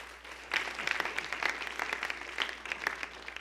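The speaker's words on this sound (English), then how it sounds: "So let's give them a big round of applause." A large audience bursts into a big round of applause at an indoor gathering, dense steady clapping that swells after a brief quieter start and continues without talk.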